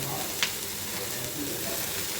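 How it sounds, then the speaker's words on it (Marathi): Onion and garlic frying in a pan while Paneer Bhaji is made, giving a steady, soft sizzle throughout with a brief sharper crackle near the start. "दोन मिनिटं मी आधी कांदा आणि लसूण भाजून घेतलेला आहे।"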